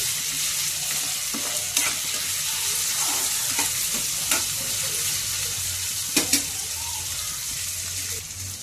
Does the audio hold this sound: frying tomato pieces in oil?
yes